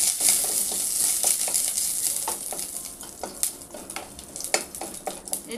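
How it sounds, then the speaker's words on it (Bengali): Dry red chillies and curry leaves frying in hot oil crackle and sizzle steadily while a spoon stirs them, with sharp pops and scraping strokes growing more distinct toward the end. "দিয়ে দিলাম শুকনো লঙ্কা, নাড়াচাড়া করে নেব।"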